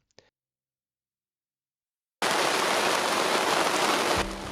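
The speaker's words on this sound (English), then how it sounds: "did I mention that it's raining?" After a brief click and near silence, steady rain falls heavily, a dense close hiss of drops on surfaces while anchored on a sailboat in a Caribbean bay, continuing unbroken.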